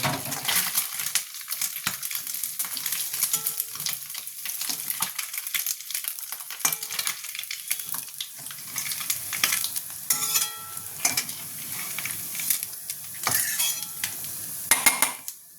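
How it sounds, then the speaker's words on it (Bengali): Mourola fish frying in oil in a pan, a close sputtering sizzle broken by repeated metallic clinks and scrapes of a spatula against the pan, quiet overall with no talking. "মাছ ভাজা হয়ে গেছে, এবার আমি মাছগুলোকে তুলে নেব।"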